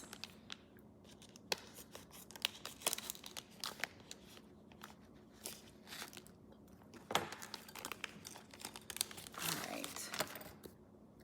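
Scissors cut open a plastic bag at close range, a quiet series of sharp snips and crinkles scattered through the stretch with faint rustling between them.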